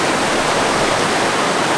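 Strong river current rushing past a forest villa, a loud, dense and unbroken roar of water that stays close and even throughout.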